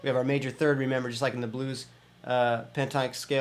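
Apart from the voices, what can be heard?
No everyday noise stands out behind the speech.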